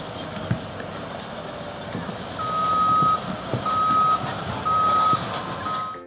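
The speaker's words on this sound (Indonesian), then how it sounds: "Di sini ada mobil truk tambang." A mining truck reverses at a construction scene, its backup alarm giving a regular series of loud, high-pitched beeps over a rumbling engine and background noise.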